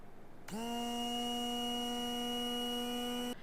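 A 500-watt hand blender with its blade stem attached gives a steady, high-pitched motor whine that starts abruptly, holds at an even pitch for about three seconds, then cuts off.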